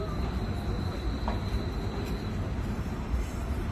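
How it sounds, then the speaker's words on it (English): A tram passing on a Vienna street near the Opera House gives a steady, close rumble with a faint high metallic whine above it, heard without talk. "Well, also a tram."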